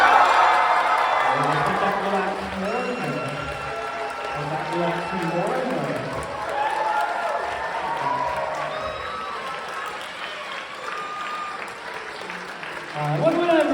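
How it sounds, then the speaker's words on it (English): A middle school audience at a comedy hypnosis show cheers together, many young voices shouting and whooping in a loud, sustained roar that rises and falls for the whole stretch. "audience, go ahead and cheer."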